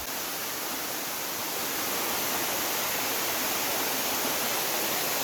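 A waterfall roars in a continuous, dense rush of water, loud and unbroken throughout, with no voices.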